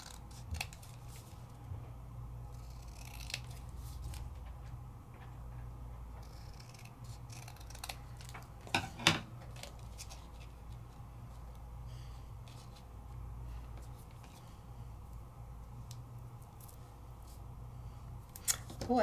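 Scissors trim paper for a handmade calendar, giving quiet, scattered snips and rustles over a low room hum, with a soft voice now and then.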